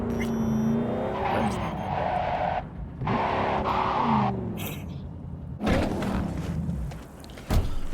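A car tears around in the video game Cyberpunk 2077 VR, engine revving up and down with repeated tire squeals and skids, in bursts of acceleration separated by brief drops and a sharp screech near the end.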